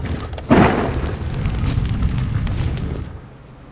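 A thrown fire bottle bursts in the video game Legends of Kesmai, a sudden loud boom followed by a roaring rush of flame that rumbles for a few seconds before fading.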